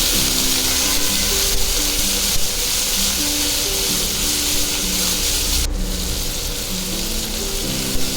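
Chopped ivy gourd (tondli) fries in a pan with curry leaves, giving a steady, loud, continuous sizzle that hisses evenly throughout with faint stirring.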